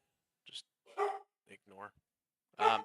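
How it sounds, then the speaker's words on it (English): Dogs bark in short bursts in a quiet room, with a few separate yaps spread across a couple of seconds while a person speaks briefly. "If you hear my dogs bark in the background"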